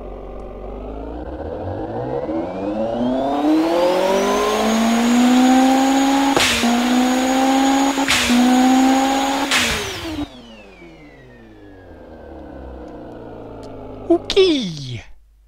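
A 3700bhp car engine revs hard, its pitch climbing steeply and holding a loud, high roar with two brief interruptions, then winding down into a falling whine, followed by a short sharp burst near the end.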